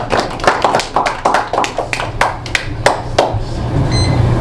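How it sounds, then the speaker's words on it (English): A small Toastmasters meeting audience claps sparsely and loosely, with uneven individual hand claps spread over a few seconds, close and fairly loud, and a low murmur beneath. "You can clap if you want"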